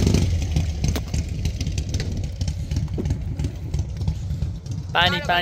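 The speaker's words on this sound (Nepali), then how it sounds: "यो कडा बाइकहरू छ यहाँनिर।" Several motorcycles idle and rev close by at a small petrol station on a road trip from Cobar to the Gold Coast, a steady engine rumble running throughout with a brief voice near the end.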